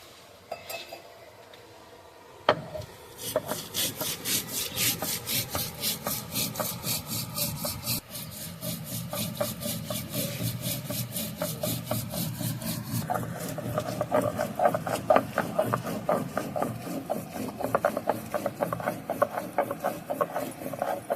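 Cumin and coriander seeds ground by hand on a grinding stone, a steady rhythmic scraping and rubbing that runs loud and close without pause, with no talking.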